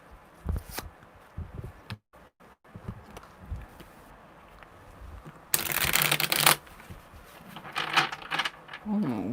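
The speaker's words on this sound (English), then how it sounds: "All right, Sharon, tell me when to stop shuffling." Tarot cards being shuffled in short crisp riffles with pauses between, one long loud burst of shuffling near the middle, and faint handling noises around it.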